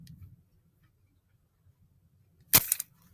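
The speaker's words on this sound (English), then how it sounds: "Load this into the Nerf gun and fire it." A Nerf gun modded to fire a dart carrying a potato chunk gives a single sharp snap with a short rattle after it, loud and close against near silence.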